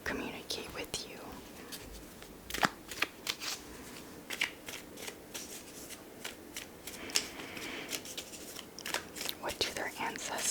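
Tarot cards being shuffled close up for a whispered reading: repeated crisp riffles and papery slaps in uneven bursts, with soft whispering alongside.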